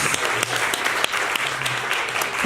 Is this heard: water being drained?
no